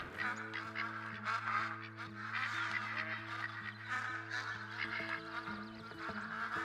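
Game ducks on a New England mountain duck hunt in Call of the Wild: repeated honking and quacking calls, fairly close, over a steady low hum.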